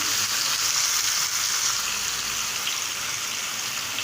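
Beef and tomatoes sizzle steadily in a hot pan while a spoon stirs them, a loud, continuous frying hiss with little change throughout.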